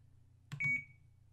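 A short electronic beep from an OpenTX RC transmitter, a quick clicky attack followed by two clear high tones that fade out, played alone over a faint low hum.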